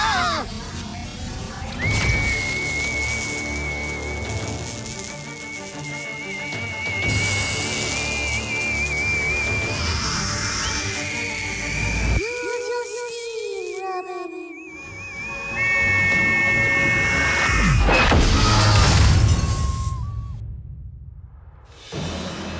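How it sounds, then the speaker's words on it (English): A powerful cartoon whistle blast from Teen Titans Go!, a long, loud, sustained shrill tone that wavers and bends over crashing, whooshing chaos, cutting out abruptly before a final burst. "I never knew whistles could be so powerful"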